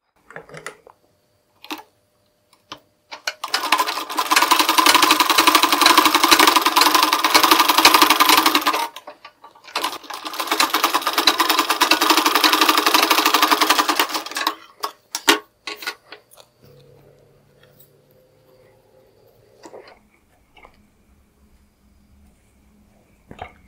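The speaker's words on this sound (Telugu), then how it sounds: "ఇలాగా మనం లూజ్ కుట్టుని వేసుకోవాలి" A sewing machine stitches a loose stitch on a blouse in two long, close, steady whirring runs separated by a short pause, with faint clicks and handling noises around them.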